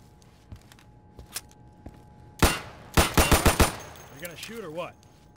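Rapid gunfire bursts crack out in the tactical shooter game Insurgency, a few isolated shots followed by a quick volley of loud reports, then a warbling electronic tone at the end; no voices present.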